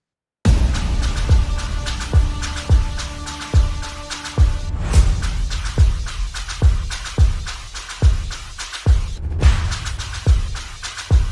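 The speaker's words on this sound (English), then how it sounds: "So the drums sound like this on their own" A steady drum beat plays alone, kick and snare hits in a regular rhythm with a short fill, loud and close.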